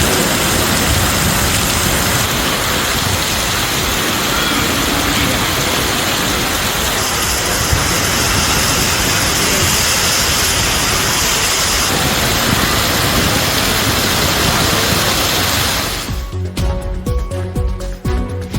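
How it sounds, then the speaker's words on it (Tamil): Heavy rain pours down with strong wind, a dense, loud, unbroken roar that thins in the last seconds, with no talking. "பலத்த காற்றுடன் கனமழை கொட்டியது"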